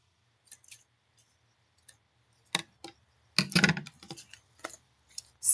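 Scissors snip glassine paper in a handful of short, crisp cuts separated by pauses, with a fuller rustling snip near the middle; close and fairly quiet, no talking.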